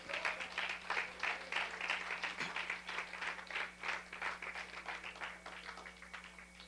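Congregation clapping at a church prayer service, a steady rhythmic ensemble of hands beating in time, moderately loud and continuous with no voices on top.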